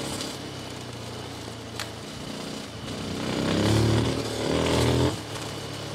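A 2025 Rieju 307 Aventura Rally motorcycle ridden off-road, its engine rising from a steady drone into a louder rev in the middle, then settling back.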